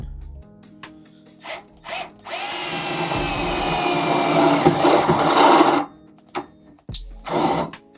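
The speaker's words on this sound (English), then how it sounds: "we drill them out." A power drill whirs steadily for about three seconds, its pitch wavering as it bites into material while drilling out holes for a seat mount in a Porsche, with short tool bursts and clatter before and after.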